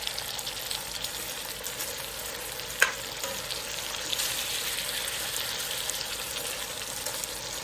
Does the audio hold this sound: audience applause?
no